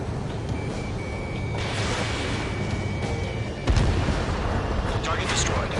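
A missile strikes its target with an explosion in the jet-combat video game Ace Combat 7, a sudden heavy boom midway through a steady roar of engine and wind noise.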